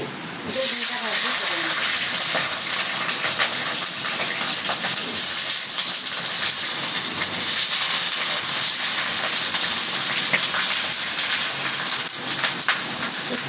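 Eggs fry in hot oil in a pan with a loud, steady, hissing sizzle that runs unbroken, close up and alone.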